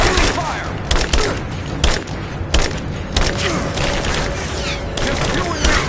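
Heavy gunfire in the video game Rise of the Tomb Raider: a loud, dense barrage of overlapping shots and booms that goes on for the whole stretch, with sharp bursts standing out in a steady roar.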